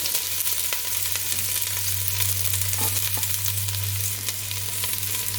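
Onion frying in two tablespoons of hot oil in a pot over high heat for chicken curry, a loud, continuous close sizzle with a steady low hum underneath and no voices.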